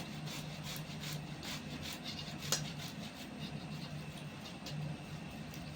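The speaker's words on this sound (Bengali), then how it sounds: "এখানে আমি একটা গ্রেটার নিয়ে নিয়েছি আলুগুলোকে আমি ঘষে নেব" Peeled raw potatoes rubbed against a kitchen grater, giving faint, repeated scraping strokes over a soft steady background hiss.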